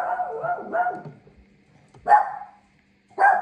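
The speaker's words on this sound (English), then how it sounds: "Sorry about the barking." A dog barks in three distinct bursts, the first a cluster of quick rapid barks, then two single louder barks after short pauses, close by in a quiet indoor room.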